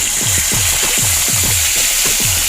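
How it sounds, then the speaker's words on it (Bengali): Garlic paste frying in hot oil with a bay leaf and dried red chillies for mutton korma: a loud, steady, close sizzle with a series of regular low scraping strokes. "রসুন বাটা হালকা ফ্রাই হয়ে গেছে"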